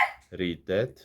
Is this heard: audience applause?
no